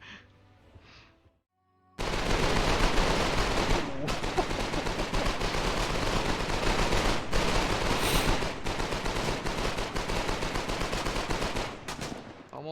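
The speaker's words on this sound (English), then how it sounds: "Almost like being killed by MG42" An MG42 machine gun in Foxhole fires long, dense, rapid bursts that are loud and close and run almost without pause after a brief quiet opening, with faint talk at the very start.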